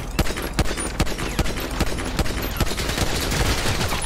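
Assault rifle fire in GTA V roleplay, rapid close bursts of sharp gunshots repeating through the clip without talk.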